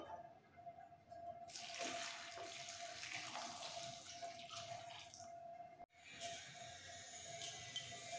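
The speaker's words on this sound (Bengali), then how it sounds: "এই গরম জলের মধ্যে একবারই ভালো করে ধুয়ে চেপে তুলে নিতে হবে" Warm water poured over small freshly made rice cakes (pitha) to rinse them, a steady running splash that holds for several seconds, breaks off briefly and then resumes, close and moderately loud with no talk.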